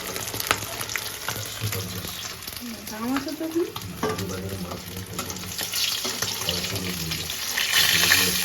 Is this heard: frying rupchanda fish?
yes